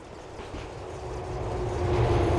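Subway train rolling along the tracks in GTA4, a steady, continuous rumble with faint rail clatter that gradually swells louder over a couple of seconds, with no talk.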